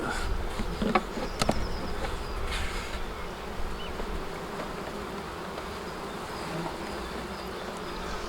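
Dense, continuous buzzing of many honey bees inside a hive during a spring inspection, steady and close, with a few brief clicks and knocks early on.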